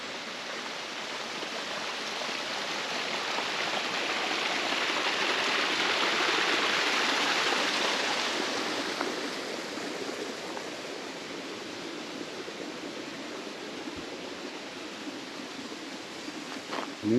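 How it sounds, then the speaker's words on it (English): Water flows at a water mill in rural Brittany, a steady hissing rush that swells louder for several seconds and then settles to a softer, continuous wash, with no voices. "And there's the water mill."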